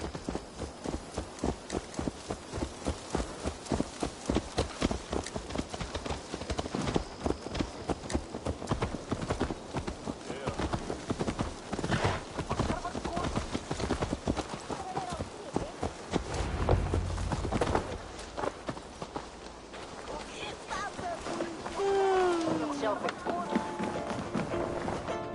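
Horse hooves clip-clopping in Assassin's Creed Valhalla, a steady rapid rhythm of hoofbeats continuing throughout, with occasional snorts, ambient game sounds and brief talk over it.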